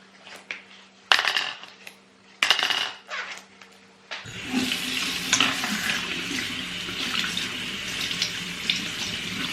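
A few clunks and knocks in a sink, then the faucet opens and water runs steadily and loudly while a soiled baby outfit is washed, continuous splashing with no talking.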